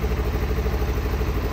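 A carbureted 2006 Kawasaki KLE 500 motorcycle engine idles low and steady up close, with a throbbing, slightly clattery rhythm and no talk.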